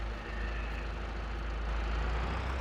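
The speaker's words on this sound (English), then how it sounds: "So I will jump in my tractor again" Tractor engine in the Farming Simulator 22 video game, a steady low rumble with a slight rise in pitch as it drives off, heard alone with no talk.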